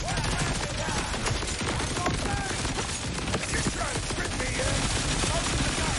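Rapid SMG gunfire from the video game Borderlands 4 during a boss fight, dense bursts of automatic shots layered over a loud, constant wash of combat noise for the full stretch.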